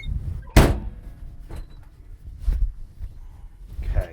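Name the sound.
bulldozer cab door swinging shut, Komatsu D61 dozer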